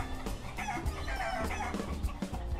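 Chickens cluck and a rooster crows in the Bad Guys at School video game as a flock runs loose through a school. Dense, close, overlapping clucking runs under game music.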